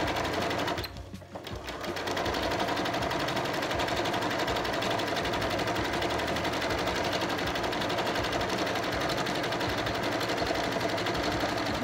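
A sewing machine runs steadily through free motion stitching, a loud, continuous rapid whirring that stalls briefly near the start and then hums on without a break.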